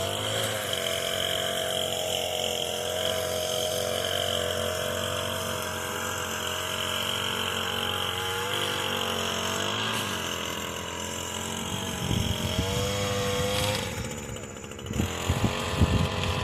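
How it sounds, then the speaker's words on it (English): An Echo SRM 225 string trimmer idles at low RPM. It gives a continuous, fairly loud two-stroke drone with slight wavering in pitch, and a rougher burst near the end. "there's where you run a weed eater, nice and slow. Slow RPM for you."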